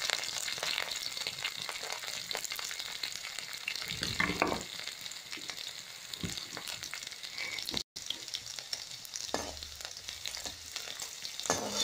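Garlic, green chillies, curry leaves and onion greens fry in hot oil with a steady, dense sizzle and occasional stirring, continuous and moderately quiet throughout.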